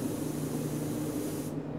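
Steady, close hiss of an HVLP spray gun applying NGR dye stain, a continuous airy spray sound that cuts off sharply near the end.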